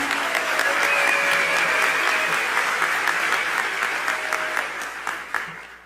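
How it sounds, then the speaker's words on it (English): At an awards ceremony an audience gives a full round of applause, dense and loud at first, then slowly thinning and fading toward a few scattered claps at the end. "can we get a round of applause for Jody Gershon?"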